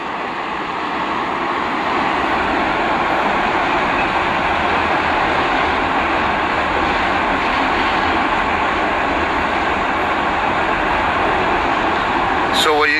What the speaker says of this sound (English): is the train actually just going through a particular area